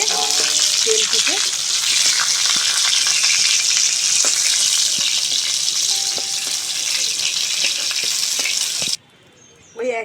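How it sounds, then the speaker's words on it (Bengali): Pieces of pointed gourd fry in hot oil and are stirred, giving a loud, steady sizzle that cuts off suddenly near the end. "পটলগুলো এইভাবে নেড়ে চেড়ে আমি ভেজে নেব"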